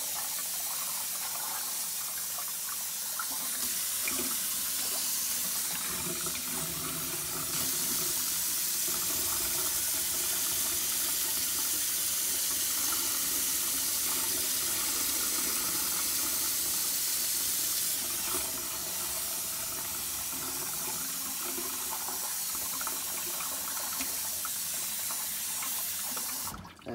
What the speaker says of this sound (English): And so we throw out the water as much as we can till it becomes clear.